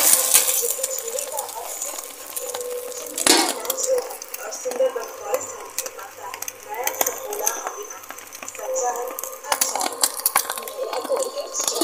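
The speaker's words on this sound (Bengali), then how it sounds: "ডিমটা আমি এক পিঠ ভাজা হয়ে গেছে, উল্টে দেব" An egg frying in a pan gets flipped with a metal utensil, producing sharp clinks and scrapes against the pan amid soft sizzling, while someone talks throughout.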